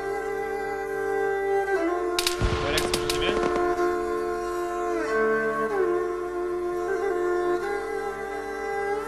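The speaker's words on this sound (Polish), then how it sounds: "I co to za strzały z ciężkiej broni?" Heavy weapon gunfire in a military video game: a short cluster of sharp, loud shots cracks over a steady droning game background.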